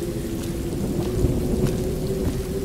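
Steady rain and rumbling thunderstorm in the video game Road 96, a continuous dense hiss over a low rolling rumble with no voices.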